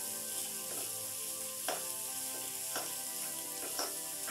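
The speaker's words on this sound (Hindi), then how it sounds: "ग्रीन चिल्ली, जिंजर, यदि सब्जियों को हमें तेल में 3 से 4 मिनट तक अच्छे से भूनना है" Vegetables for a veg omelette, with green chilli and ginger, fry in hot oil with a steady close sizzle, broken by occasional scraping stirs.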